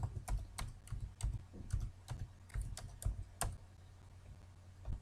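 Typing on a computer keyboard while entering data in an Excel spreadsheet, a quiet, close burst of irregular key clicks that tapers off into near silence toward the end.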